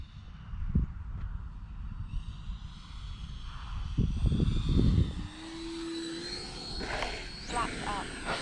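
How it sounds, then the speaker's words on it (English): A FlyFans K-8 Red Falcon RC model jet trainer flies overhead, its high-pitched whine rising and shifting as it passes. Wind buffets the microphone in bursts, and a person talks intermittently. "So Korean jet trainer."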